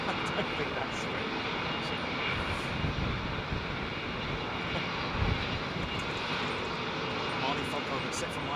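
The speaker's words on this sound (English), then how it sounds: "there's another aircraft, especially UPS" An aircraft passes at Heathrow Airport, its engines making a steady broad roar that holds for several seconds, with a voice speaking beneath the noise.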